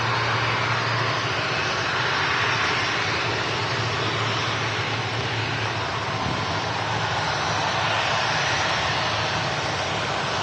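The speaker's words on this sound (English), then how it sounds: "there she goes, the very pretty Urini ATR, runway 23 left." An ATR turboprop airliner at Manchester Airport on runway 23 left gives a steady, broad engine roar with a low hum, continuous and fairly loud throughout, no voices present.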